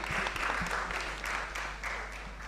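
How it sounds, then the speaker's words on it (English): A conference audience at a mobile technology for development panel claps in a steady, sustained round of applause, moderately loud and without talk, with the clapping swelling in brief waves. "a round of applause for that"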